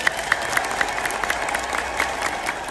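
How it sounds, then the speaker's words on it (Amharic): A church congregation claps together in a steady, even patter of applause that fills the whole moment, with a few louder hand strikes standing out and no voices over it. "እስኪ አጨብጭቡ።"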